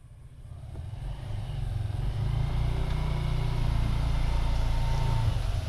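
Motorbike riding along a road in Hoi An, Vietnam, a low engine drone swelling from quiet to a steady close rumble as it accelerates, with no talking.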